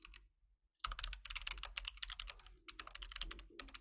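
Fast typing on a computer keyboard, a dense run of close clicks starting after a short quiet moment, with a brief pause near the end before resuming.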